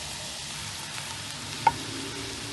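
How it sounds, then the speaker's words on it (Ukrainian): Mushrooms fry under a lid in a pan, giving a steady soft sizzle with one brief light clink partway through. "Тепер додаємо гриби їх теж треба обсмажити під кришкою."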